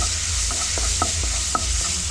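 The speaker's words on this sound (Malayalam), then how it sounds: "അതിൻ്റെ ജസ്റ്റ് ഒരു പച്ചമണം ഒന്ന് മാറുന്ന വരെ ഒന്ന് വഴറ്റി കൊടുക്കാം" Crushed ginger and garlic sauté in a hot pan for a Kerala-style beef masala, a steady bright sizzle broken by several short stirring scrapes, close and alone.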